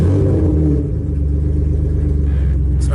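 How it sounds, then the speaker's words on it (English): A BMW E36 engine in a stripped-out car, cold-started, runs with a loud, steady low rumble at a fast idle that dips briefly, then holds an even, throbbing drone. "I'm gonna do a cold start for you in the stripped car so you can hear what it sounds like."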